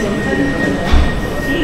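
Train bound for Manchester after leaving Paddington, a steady low rumble of rail travel with a faint tonal whine and a brief thump near the middle, no talk.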